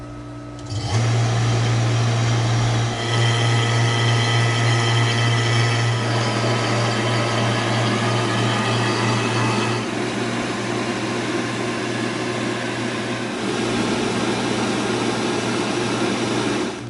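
A vacuum pump pulls a vacuum on an AC system after a compressor replacement, giving a steady, close mechanical drone with a low hum that starts abruptly and runs without pause, with no talking.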